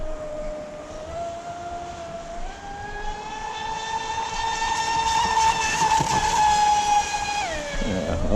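A hexacopter with a 7030C battery pack runs its motors at full throttle, producing a loud, sustained high-pitched whine that climbs and wavers, then dips near the end, with no voices.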